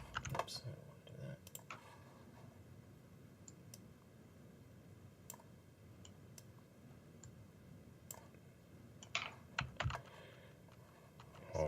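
Computer mouse clicks come while a character is rigged in Toon Boom Harmony animation software, scattered faint sharp ticks over a quiet room background, with a cluster of quicker clicks near the end.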